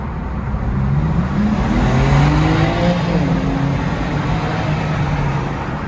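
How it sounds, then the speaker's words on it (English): Loud 2021 BMW M3 Competition (G80) engine in sport mode revving and accelerating inside an enclosed tunnel, the deep growl rising in pitch and echoing continuously. "The car is in sport modes. I've tried to put everything on sport, and I'm in the tunnel"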